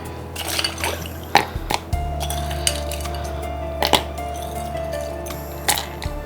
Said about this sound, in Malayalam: കുറച്ച് ഐസ് ക്യൂബ്സും കൂടി ഇടാം